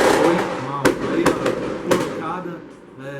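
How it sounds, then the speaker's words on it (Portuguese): Fireworks and rockets burst nearby, several sharp loud cracks spaced irregularly over a background of motorcycle noise without exhaust and a talking voice. "soltando fogos aqui, tá foda"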